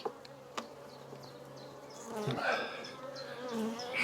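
Honeybees in a busy hive buzz steadily at close range, some fanning, a layered droning hum with individual bees passing by and swelling louder partway through.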